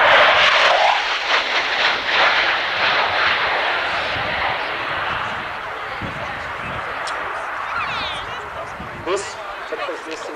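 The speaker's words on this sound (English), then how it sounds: "This is the final year in which we can see this aircraft displaying in the world" Low-level strike aircraft displaying at the Yeovilton air show, a sustained broad engine roar that fades slightly as it passes, with crowd noise and commentary underneath.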